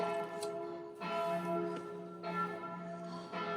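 A church bell tolls repeatedly, each ring blooming with rich overtones and lingering hum, struck about once a second, moderately distant.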